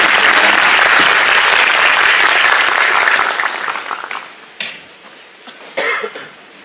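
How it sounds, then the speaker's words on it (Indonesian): An audience applauds loudly at a talk by an ambassador, a dense burst of clapping that thins out and fades after a few seconds, followed by scattered coughs and a brief rustle. "Kita beri tepuk tangan untuk Pak Dubes."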